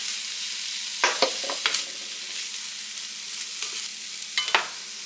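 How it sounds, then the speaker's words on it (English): Sliced green onion tossed into a pan of frying cole slaw mix, crackling with a steady sizzle and a few sharp stirring scrapes and clinks, close and fairly loud with no talking. "I'm going to go ahead and add my green onion in."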